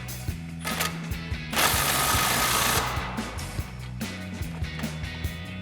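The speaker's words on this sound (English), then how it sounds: "we'll use our 15/16 socket to tighten this down" A 15/16 socket wrench tightens a nut on an adjustable bump steer kit for a 1994-2004 Mustang, giving rapid ratcheting clicks in short bursts, close by, with a brief louder metallic rush in the middle.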